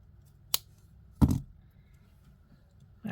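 Cutters snip beading wire on a handmade necklace, giving two sharp close clicks, the second louder, followed by a little handling noise.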